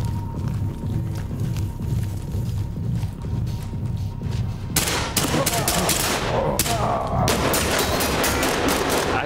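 Gunfire in the tactical shooter game Ready or Not inside a neon night club, with a rapid burst of sharp, loud shots in the second half following a quieter rumbling stretch.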